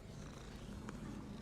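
Cat purring inside the Hogwarts video game, a soft continuous low rumbling purr, steady and fairly quiet throughout with no voices.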